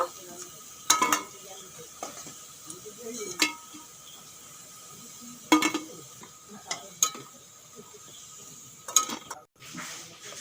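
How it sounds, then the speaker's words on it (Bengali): Lentil fritters (bora) frying in oil in a kitchen, a soft steady sizzle with several sharp clinks and scrapes of a utensil against the pan, no talking. "বাদ বাকি বড়াগুলো আমি ভেজে নেব"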